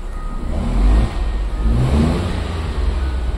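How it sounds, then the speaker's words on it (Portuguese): A Nissan Versa 1.6 three-cylinder engine runs rough, its loud revs surging and dipping unevenly under forced acceleration, with no talking over it. "Carro funcionando muito mal, ó. Oscilando, forçando a aceleração, ó."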